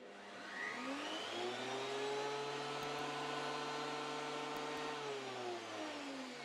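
A thickness planer fitted with a new helical cutter head idles with a steady, smooth whirring hum, rising as it spins up, holding evenly, then easing slightly toward the end.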